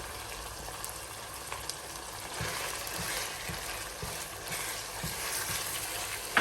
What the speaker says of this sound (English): So I'm going to go ahead and fry it for another 2 minutes and then introduce my tomato paste